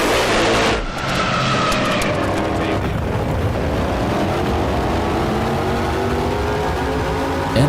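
A drag racing car engine in the video game NHRA Championship Drag Racing roars loud and continuous, a sustained revving drone with a sharp shift near the start, mixed under what sounds like game audio and voice.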